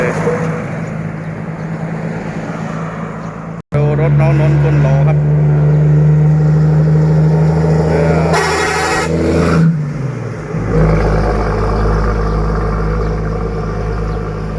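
A dump truck powers up a slope outside a repair garage, its loud exhaust roaring and droning steadily over the whole stretch, with one brief cut and a deep rumbling surge near the end; voices are heard over it.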